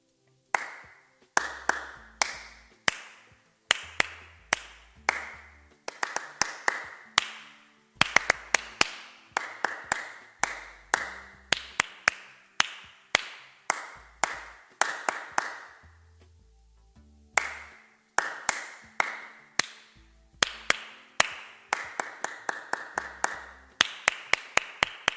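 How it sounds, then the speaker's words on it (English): Hands clap out repeated rhythmic patterns for a group concentration exercise, crisp close claps in quick bursts separated by short pauses, with no talking. "Remind the group that you will not be speaking whilst you are clapping"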